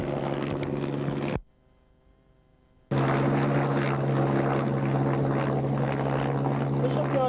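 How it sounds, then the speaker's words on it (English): Loud droning helicopter rotor with a steady engine hum, cutting out abruptly for over a second before returning; a voice speaks over it. "Look at that fucking helicopter."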